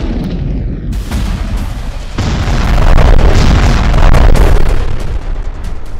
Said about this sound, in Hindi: तिब्बत के पठार पर हुई इस एक्सरसाइज के दौरान चीनी सैनिकों ने बड़ी बड़ी तोपों से फायरिंग की।